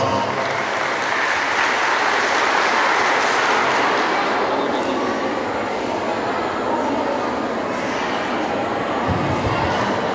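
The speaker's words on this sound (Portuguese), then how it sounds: "prefeito municipal Vilcimar Pereira, uma salva de palmas" A room full of people clapping at a Mother's Day celebration in Nova Iguaçu, sustained and dense applause throughout, with some scattered voices in the crowd.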